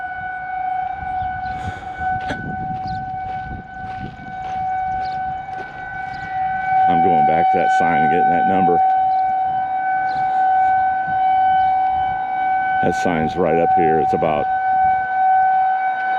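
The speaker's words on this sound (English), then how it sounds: "What is this siren going off?" An outdoor civil defense siren wails steadily on a street, loud and sustained through the whole stretch, while someone talks over it as he walks.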